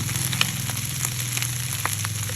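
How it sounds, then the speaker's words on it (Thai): Garlic and black pepper fry steadily in a pan with a dense, close sizzle and occasional small crackles, alongside a constant low hum. "ใส่ทอดกระเทียมพริกไทย ใส่กระเทียมพริกไทยดำ"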